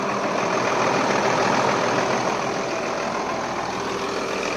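Lamborghini R6 tractor engine idling outdoors on a farm, a steady, loud, close mechanical rumble that holds constant throughout with no voices.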